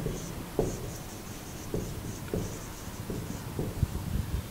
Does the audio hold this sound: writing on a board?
yes